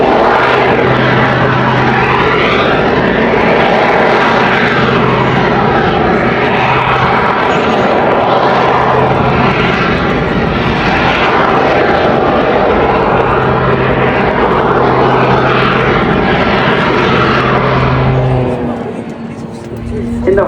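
A jet aircraft roars loudly and steadily at the Duxford summer airshow, its engine noise sweeping in pitch as it maneuvers, before fading slightly at the end; a voice speaks over it.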